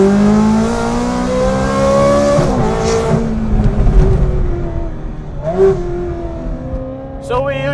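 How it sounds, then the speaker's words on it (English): A Ferrari with a flat-plane engine and a performance exhaust revs hard and climbs through the gears, with a high wailing tone that rises, breaks at each shift and climbs again, loud and close. "if you have the right exhaust, we can bring this engine to its full acoustic potential"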